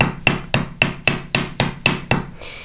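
A hammer strikes a rivet on a metal disc bracelet, eight sharp, evenly spaced metallic taps in quick succession, close and clear with no talk.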